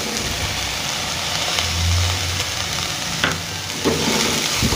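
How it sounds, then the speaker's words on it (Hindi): Finely chopped cabbage, onion and tomato sizzle steadily in a pan while being stir-fried for vegetable macaroni, with a continuous hiss and occasional scraping stirs. "इन सब्जियों को हमें ज़्यादा नहीं पकाना है, क्रंची रहने देना है, बस 1-2 मिनट इन्हें भूनना है हमें।"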